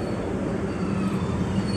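An economy-class train pulls into Jatinegara station, a low steady rolling rumble heard from inside the carriage, with faint wheel noise and no talk.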